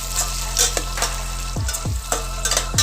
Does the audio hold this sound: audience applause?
no